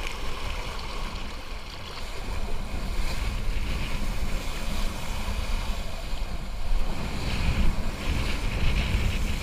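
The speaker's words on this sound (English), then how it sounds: "A little bit on the windy side today." Strong wind buffets the microphone in a continuous loud rumble, gusting and swelling, with water churning underneath.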